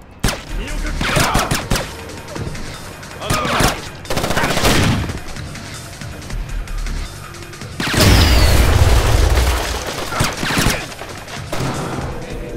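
Gunfire in Splinter Cell: Chaos Theory, a stealth video game: several loud, sharp bursts of shots with crashing impacts, clustered near the start and again around the middle, with quieter game ambience between them.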